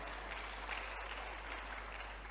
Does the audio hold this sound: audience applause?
yes